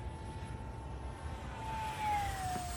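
A 3D printed model airplane with an electric motor flies past at a distance, a faint steady whine that rises and bends slightly in pitch as it passes, with no talk.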